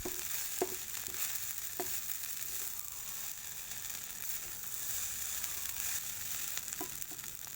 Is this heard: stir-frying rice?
yes